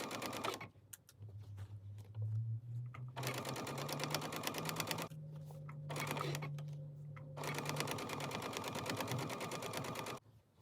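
A sewing machine top stitching a quilt block runs in several steady, rapid bursts with short pauses between them. A low hum rises under the stitching, and the machine is heard close and alone.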